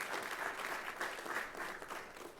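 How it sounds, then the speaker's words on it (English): A crowd at a voting-rights event breaks into steady, sustained applause. Dense clapping holds at an even level for the whole stretch, with no voices on top. "We need to applaud that leadership."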